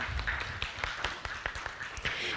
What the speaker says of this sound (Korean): 다시 한번 좀 큰 박수 부탁드립니다